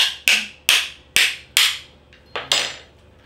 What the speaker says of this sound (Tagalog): Kailangan martilyo sana yung kuantan ginamit mo.